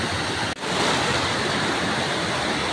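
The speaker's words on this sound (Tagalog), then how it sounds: "Kambugahay Falls." Cambugahay Falls on Siquijor roars in a steady, loud broadband rush of falling water close by, broken only by a brief dip near the start, with no talk.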